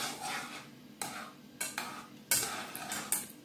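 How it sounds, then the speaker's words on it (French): A spoon stirs a coconut cream mixture in a pan on the heat as it thickens, giving soft scraping and clinking strokes in irregular bursts, close and moderately loud, with no talking. "on va mélanger petit à petit et attendre que ça épaissit"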